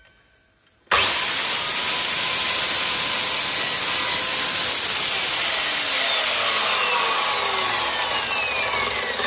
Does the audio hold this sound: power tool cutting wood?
yes